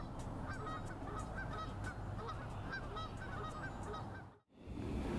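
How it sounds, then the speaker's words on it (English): Geese at a beach in Hingham honk repeatedly in a loose, overlapping chorus, moderately near over steady outdoor background, ending with a brief drop-out. "The geese have had a long history at the beach, and right now they still look very comfortable."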